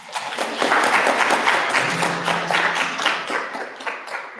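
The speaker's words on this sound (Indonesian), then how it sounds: "Boleh tepuk tangan buat" An audience at a talk on house-hunting in Perth breaks into applause, a dense burst of clapping that swells early and then gradually thins out, with no speech over it.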